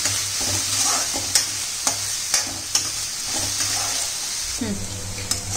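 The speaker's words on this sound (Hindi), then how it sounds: "फिर अच्छे से इसको हम भून लेंगे।" Onions frying in an Indian kitchen pan for kadhi pakora, a steady loud sizzle running throughout, with a spoon scraping and stirring in regular strokes about every half second.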